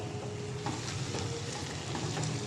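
Potatoes fry in a pan with a constant soft sizzle and faint crackling throughout, steady and unbroken, with no voices.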